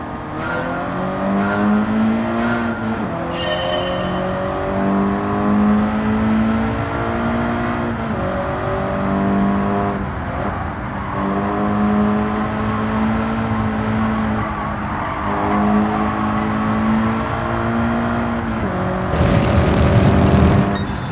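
A car in Gran Turismo 7 accelerating through corners during a licence test, the engine revving up and easing off in repeated rising sweeps, loud and close, with a burst of tire or gravel noise near the end.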